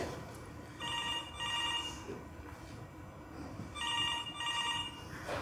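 Telephone ringing in a home or office setting, two pairs of bright electronic trill bursts separated by a pause, clear and moderately loud over low background noise.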